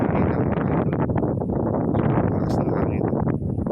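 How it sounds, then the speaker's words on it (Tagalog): Strong wind at a hillside campsite in Tanay, Rizal, roaring continuously into the microphone as a loud, dense low rumble throughout. "Lakas ng hangin."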